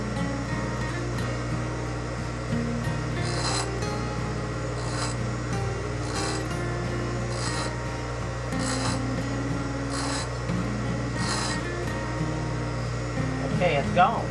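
A drill bit edge is filed by hand to remove a small gouge, with repeated rasping strokes over a steady background hum, moderately loud and fairly close.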